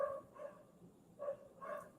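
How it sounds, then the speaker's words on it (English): Dogs bark in short warning bursts, three or four spaced barks heard faintly from a distance in a quiet night setting. "Dogs are barking."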